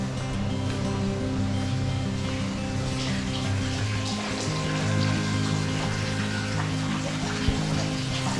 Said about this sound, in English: immediately you get hit with this sound of trickling water from your own personal waterfall